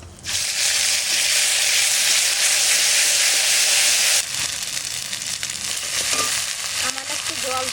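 Spice paste sizzles hard in hot mustard oil with bay leaf and cumin, a loud, bright, steady frying hiss for about four seconds, then settling into a softer crackle with occasional stirring sounds.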